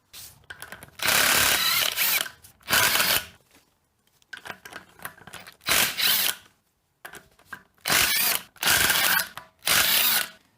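A power tool spins off 12 mm axle nuts on a Toyota axle rebuild in short, loud whirring bursts, about five or six of them separated by brief pauses.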